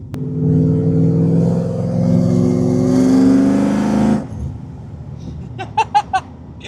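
A supercharged Coyote-swapped Mustang with MagnaFlow mufflers roars loudly as it accelerates hard, the pitch climbing, then cuts off abruptly, followed by a few sharp exhaust pops or crackles.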